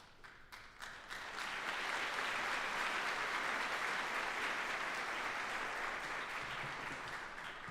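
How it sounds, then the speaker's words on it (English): Sustained applause from the audience at an Army retirement ceremony, with a few scattered claps at first that swell within a second or two into a dense, even roar of clapping, held steadily to the end. "I know the cheering section's here because we just heard everybody"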